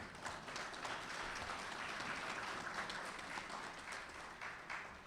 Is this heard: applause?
yes